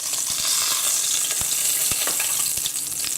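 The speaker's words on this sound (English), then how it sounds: "Kind of brown them off." Lamb shanks sizzle and crackle steadily as they brown in a hot frying pan, a continuous close hiss with occasional soft knocks and pops, no voices.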